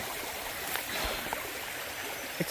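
A creek along the Appalachian Trail flows nearby in a continuous broad rush of water, with a few small splashes and trickles breaking through the steady wash.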